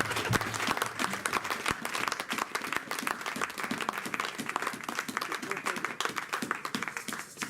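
A church congregation applauds during a French-language sermon, dense rapid clapping running steadily throughout at moderate level with no talk over it.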